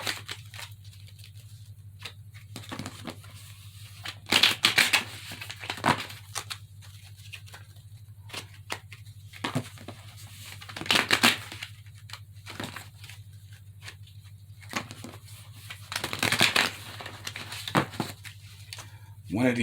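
Bursts of riffling and crackly shuffling card noises come in short clusters, separated by quieter pauses with a low steady hum underneath.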